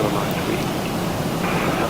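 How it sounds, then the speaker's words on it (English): Rain falls in a flight simulator, a dense, steady hiss of rainfall that fills the whole moment at even loudness. "I think they're getting rain."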